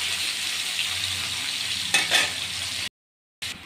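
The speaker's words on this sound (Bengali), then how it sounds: "তো পেঁয়াজটা ভাজা ভাজা হোক।" Sliced onions fry in hot oil with two torn bay leaves, making a close, steady sizzle. A short burst of stirring stands out near the end, followed by a brief silence.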